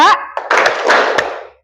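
A group claps along in a counting clapping game during a school lesson, a short burst of many hands right after a brief voice, fading out within about a second.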